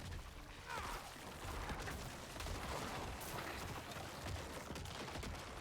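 A dense, continuous barrage of explosions in a Diablo nightmare dungeon fight with summoned skeletons, loud booming and crackling bursts running without pause.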